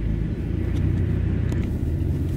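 A Nissan Y62 Patrol engine in low range, off-road on a rocky track, drones as a steady, loud low rumble with a slight rise in revs and no talk over it.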